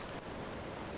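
Steady rain falling in the video game The Legend of Zelda: Tears of the Kingdom, a dense, even hiss of rainfall that fills the brief moment without pause, moderately quiet and with no talk.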